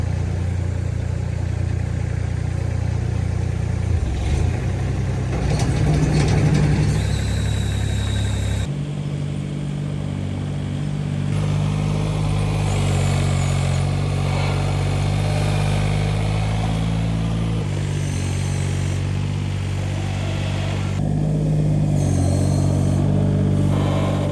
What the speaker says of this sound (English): I think I hear the first delivery truck is already here.